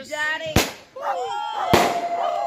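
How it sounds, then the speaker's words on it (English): Two sharp firework bangs go off over a dock, each a sudden loud crack followed by crackling decay, while people nearby talk and whoop between the bursts. "Watching fireworks on the dock."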